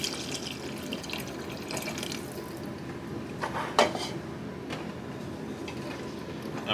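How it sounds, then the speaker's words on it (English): Half a cup of water is poured into a stew pot, a soft steady splash over low kitchen background, with a few clinks of utensil against the pot. "Take like a half cup of water and just pour that right in there."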